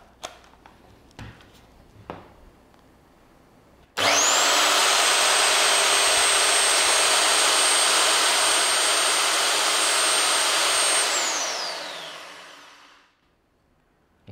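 An INGCO RH18008 rotary hammer runs with no load in drilling mode: after a few faint clicks it starts abruptly into a loud, steady high whine, holds for about seven seconds, then winds down smoothly into silence.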